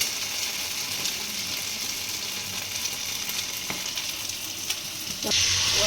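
Food frying in a pan full of hot oil, a continuous close sizzle with faint crackles, growing louder and brighter near the end, no voices.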